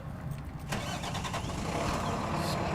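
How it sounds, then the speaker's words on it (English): A 2022 Freightliner M2 truck's diesel engine cranks briefly and catches, then settles into a rough, steady low rumble close by. "start the truck"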